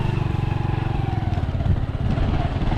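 A motorcycle engine on a provincial road thrums with a steady, rapid pulsing chug, moderately loud and continuous throughout.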